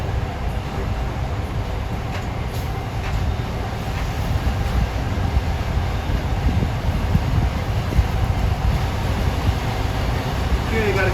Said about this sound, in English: what it sounds like a Foxborough train